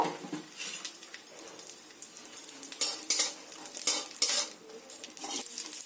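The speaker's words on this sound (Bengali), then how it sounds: "কিশমিশটা খুব ভালো করে ভেজে নেব" Raisins fry in a little hot ghee in a kadai, giving a steady close sizzle broken by bright scraping and stirring clatter from a utensil against the pan. No voices.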